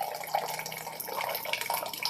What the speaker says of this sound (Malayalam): ബ്ലൂ ടീ ആണ് ഒഴിക്കുന്നത്.